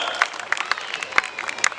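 A comedy poetry gathering at a Jain temple in Jaipur gives a short round of scattered, sparse clapping, individual claps popping irregularly over a faint background murmur.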